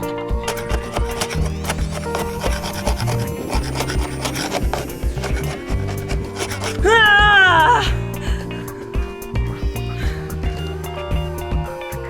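Old bottom paint is scraped off a boat hull with a hand scraper, giving steady, close rasping strokes that repeat continuously and grow louder and harsher for a moment midway.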